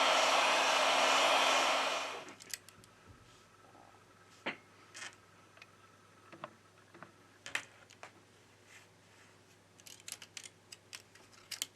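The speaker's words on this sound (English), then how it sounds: "With the help of a heat gun, we apply 90 Celsius degrees during 4 minutes." A heat gun blows hot air at 90 °C onto a Samsung Galaxy Note 10 Plus to soften the adhesive for a battery replacement: a loud, steady roar for about two seconds, then it cuts out, leaving faint scattered ticks and clicks.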